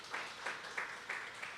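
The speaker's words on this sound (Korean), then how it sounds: "우리 박수 한번 쳐줄까요?" Faint applause from a congregation at a Friday worship service in a church, a short, soft run of clapping with regular swells, heard from a distance.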